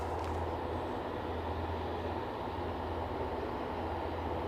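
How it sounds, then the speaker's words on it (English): A helicopter flies near Aberdeen airport, its rotor and engine a steady distant rumble spread across the whole stretch, with no talk over it. "I can hear a helicopter, but I don't know where I'm looking."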